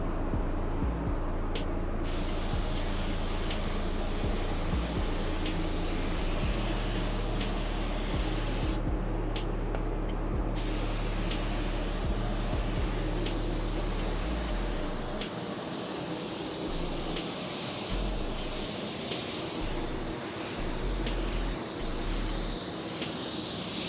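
A spray gun lays down a paint blend in a steady, loud hiss of atomised spray, with a low compressor or booth rumble underneath and the spray cutting out briefly twice.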